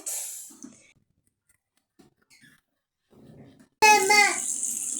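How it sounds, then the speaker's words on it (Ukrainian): Tap water runs loudly and steadily while a small child washes their face at a bathroom sink, preceded by faint quiet talk and shuffling. "мию щічки"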